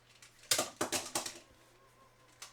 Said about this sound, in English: If you hear a lot of like clicking and clacking, my kids are playing with their magnet tiles.